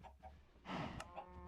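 Chickens clucking on an automatic chicken farm in a block-building video game: a few short clucks and one louder squawk, faint and close, with no speech.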